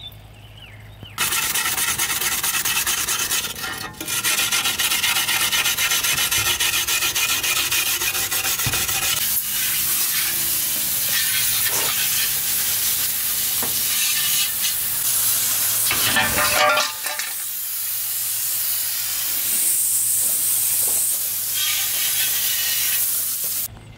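A pad of Scotch-Brite scrubs an aluminum radiator coated in cleaner, a steady close hissing rub that runs almost continuously for over twenty seconds with brief pauses and shifts in stroke.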